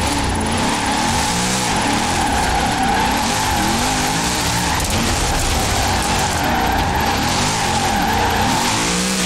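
A Corvette drifts in the racing game Forza Horizon 4, its tires skidding and squealing continuously over a loud, revving engine for the whole stretch, with no talking.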